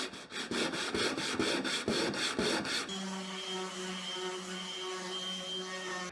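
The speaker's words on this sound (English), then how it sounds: "I'm going to have to hand sand them" Kitchen cabinet doors being sanded by hand, with about a dozen steady rhythmic rubbing strokes up close, then a switch to a continuous machine-like drone with a steady tone.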